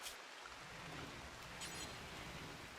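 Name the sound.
rain of a toxic storm in a video game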